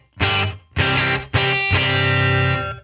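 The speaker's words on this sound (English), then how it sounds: "early reflections, which sounds like this" Electric guitar through a Headrush unit set to an early reflections reverb: three short distorted chords, each cut off, then a longer sustained chord ringing out, loud and close.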